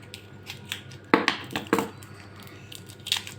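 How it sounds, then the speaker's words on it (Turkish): Scissors cut open a plastic toy package, giving a few crisp snips and crinkles near the middle, close and fairly quiet against a soft room background. "Şimdi onu makasla açacağız."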